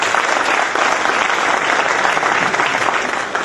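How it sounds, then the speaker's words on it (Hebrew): A seated audience breaks into loud, dense applause at an Israeli panel event, sustained clapping that fills the whole stretch without a pause. "מחיאות כפיים"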